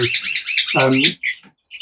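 Border canaries chirp in quick repeated bright trills, with a short lower rolling warble in the middle, close and clear, no voices.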